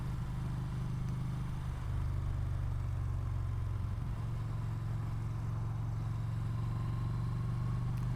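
A car on a public road passes close beside a rider on a motorcycle while the rider's engine hums steadily at low pitch. The passing car shows as a modest swell in the road and engine noise partway through.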